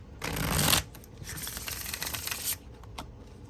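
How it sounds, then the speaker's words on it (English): A deck of tarot cards gets shuffled up close, with a loud riffling burst followed by softer, quicker card flicks and taps, quiet and alone. "I'm going to put these cards back in the deck and shuffle."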